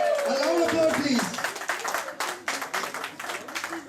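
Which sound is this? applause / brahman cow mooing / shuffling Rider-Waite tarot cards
applause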